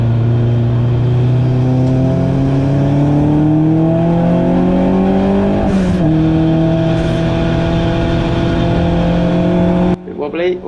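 A race car at the Silverstone GP circuit during a BRSCC ClubSports race drives loud and close from the onboard view, its engine note climbing steadily through the gears, with a brief dip at a shift and a sudden drop near the end.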